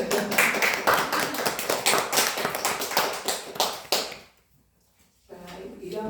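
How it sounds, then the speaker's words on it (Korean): A church congregation claps together, loud and rhythmic, for about four seconds before it stops and leaves a brief quiet. "다시 한번 박수."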